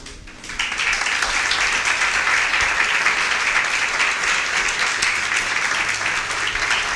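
A church congregation erupts into strong, continuous applause after a brief quiet start, holding a full, even wash of clapping to the end.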